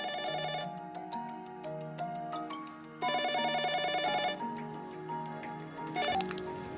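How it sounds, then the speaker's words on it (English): A telephone ringing during a call, heard as repeated electronic ring tones with ticking clicks in a steady pattern, moderately loud with no talking. "John eventually works up the courage to call Jennifer"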